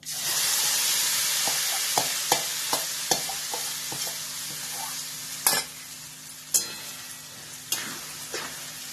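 Vegetable tikki mixture stirred in a frying pan over a constant loud sizzle, with a spoon knocking and scraping against the pan at irregular intervals, close by and without talk.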